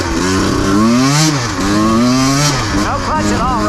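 A motorcycle fitted with a Rekluse auto clutch rides close by, its engine rising and falling loudly as the rider shifts through the gears repeatedly, with audible drops in revs at each shift and a voice talking over it.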